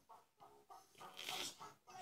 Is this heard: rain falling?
no